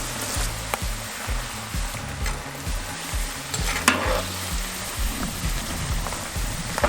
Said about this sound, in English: And we just fry these till they're crispy, light brown, or whatever your liking is.